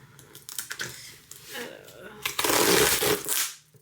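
A book subscription box being opened, with papery rustling, tearing and crinkling of packaging up close while a person talks.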